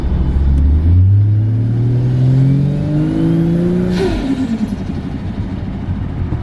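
A turbocharged 440HP Ford Falcon accelerates hard at Mount Panorama, its engine note climbing steadily through the gears with a loud, close, rising growl, a brief break at a shift, then pulling again.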